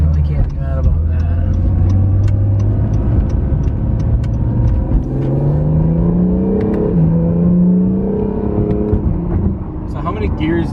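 An Acura NSX engine revs up under throttle in third gear, the tone climbing and dropping with shifts from inside the car, loud and close, while people talk over it.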